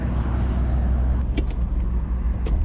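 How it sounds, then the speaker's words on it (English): A BMW Z3 2.3 roadster's engine and exhaust give a steady, loud low rumble throughout, with a few brief higher squeaks or whooshes on top and no voices. "the exhaust note is still pretty sweet, especially compared to a Miata"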